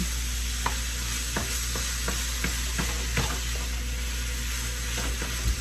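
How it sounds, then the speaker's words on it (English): Ground meat frying in a pan for crunch wrap filling, a steady sizzle with repeated scraping taps of a utensil breaking it up, close and alone. "Just breaking up that meat."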